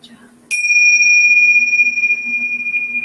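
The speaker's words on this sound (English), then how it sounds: "pick up our bells there and ring our bells to end our class" A small hand bell is struck once to close a children's story-time yoga class, giving a sudden bright strike followed by a clear, sustained ringing tone that slowly fades.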